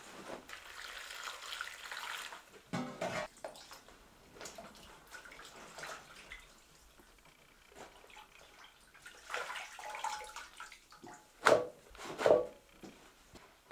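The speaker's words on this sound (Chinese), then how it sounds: "倒水把白菜洗一下。" Water is poured over Chinese cabbage and the leaves are washed, giving quiet, intermittent splashing and trickling with a few sharper sloshes near the end.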